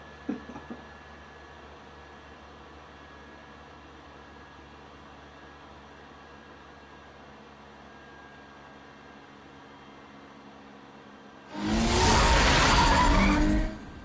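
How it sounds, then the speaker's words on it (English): A fast car in Telltale's Batman rushes past in a loud, roaring burst lasting about two seconds near the end, following a long stretch of quiet low ambience. "Sounds like a really fast car."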